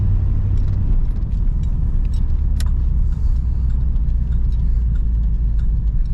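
A 150-horsepower car that sat unused for 17 years drives along, its engine producing a loud, steady rumble with road noise throughout, plus a few faint rattles and clicks inside the cabin.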